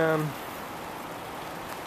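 Steady rain falls outdoors during a wet trip along a high river, a dense even hiss of drops on surfaces following a brief voice at the start.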